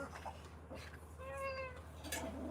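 A cat named Irma meows once, a clear drawn-out close meow in the middle of the moment, with some faint rustling and background noise around it.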